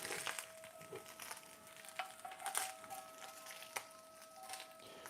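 Beef is scraped around a hot cooking pan with no oil, in a rapid run of short scratchy strokes and light clinks, fairly quiet and close, with no talk.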